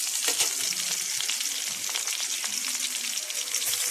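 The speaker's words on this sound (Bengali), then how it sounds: "পেঁয়াজটাই আগে দিলাম, কারণ পেঁয়াজটা ভাজতে একটু সময় লাগে" Onions fry in a pan with a dense, steady sizzle and crackle, close and fairly loud, with faint stirring scrapes now and then and no voices.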